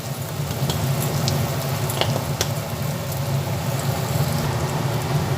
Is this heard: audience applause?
no